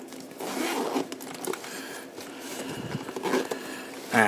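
A waterproof zipper on a DJI Mavic Pro drone carrying bag is pulled open and shut, giving several rasping zips in close succession, close up and fairly loud, with handling rustle between them.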